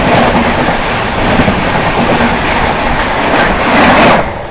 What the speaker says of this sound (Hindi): सामने से आ रही है न्यू दिल्ली हावड़ा राजधानी एक्सप्रेस।